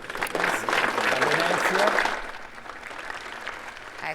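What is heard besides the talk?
crowd applauding at a funeral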